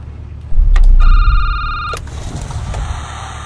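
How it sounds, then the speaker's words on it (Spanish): A telephone ringing in the horror video game Security Booth: one loud, close electronic ring lasting about a second, set against a low rumbling ambience, with clicks before and after. "Es que parece que te está llamando él por teléfono"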